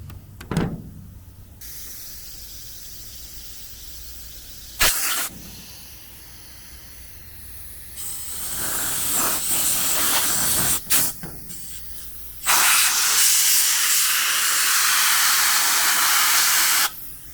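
A Black and Decker Dustbuster handheld vacuum is blown out with compressed air: sharp, close hissing bursts of varying length, from short blasts to longer sustained rushes, separated by quieter gaps, with no talking.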